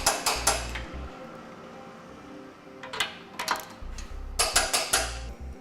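Metallic clicks and ratcheting clanks come from a wrench torquing the bolts of a CURT front mount trailer hitch on a 2008 vehicle, sounding in short bursts separated by quieter pauses, close to the mic.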